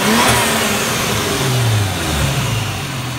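A Toyota Supra MKIV with a turbocharged 1JZ-GTE engine revs loudly and close up during a street pull, its pitch sweeping steadily upward and holding a sustained, continuous roar.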